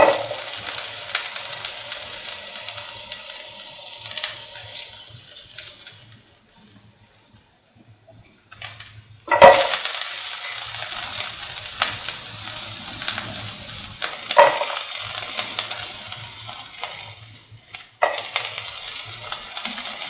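Onion pieces fry in a pan of hot oil for cottage cheese tomato rice: a steady sizzle and stirring fade almost to quiet, then a sudden loud surge of frying returns and continues with spoon scrapes.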